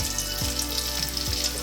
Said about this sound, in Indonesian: Sekarang kita goreng.